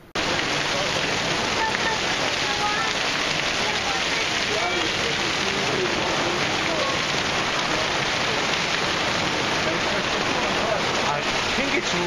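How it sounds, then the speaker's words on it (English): Steady rain falls outside during a summer power outage, a dense, even hiss of drops that holds loud and unbroken for the whole stretch, with no voices over it. "Raining out."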